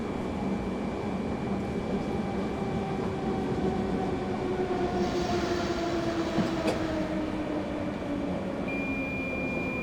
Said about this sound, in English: the sounds on this train are awesome